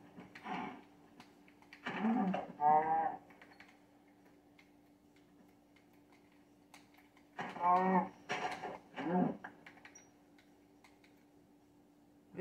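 Cows moo in Minecraft Xbox 360 Edition, two clusters of short, low, buzzy moos separated by a quiet stretch, over a faint constant hum.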